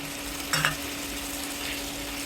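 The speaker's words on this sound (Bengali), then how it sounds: "সামান্য জল দিয়ে কষিয়ে নেব মশলা" A spice paste of ginger, garlic and cumin frying with a splash of water for a banana blossom and shrimp curry gives a steady, soft close sizzle, with a brief louder burst of stirring partway through.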